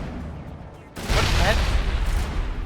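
Hand grenades exploding in the video game Mass Effect: after a quiet stretch a sudden loud, sustained burst of blasts and crackling debris fills the rest of the moment, dense and close.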